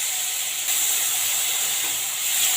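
Ginger, garlic and onion paste frying in hot oil in a wok with whole garam masala, a steady close sizzle and hiss that runs unbroken and swells slightly partway through.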